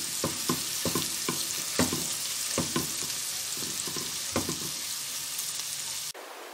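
Onions frying gently in a pan over low flame, a steady close sizzle broken by a series of distinct thumping stirs, ending abruptly.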